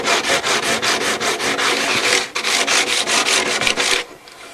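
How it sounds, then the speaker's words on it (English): A sanding block rubs back and forth over dried lacquer on the wood of a guitar, steady rhythmic scratchy strokes, close and loud, stopping abruptly near the end. "So once the lacquer is dried, come in and just use a sanding block"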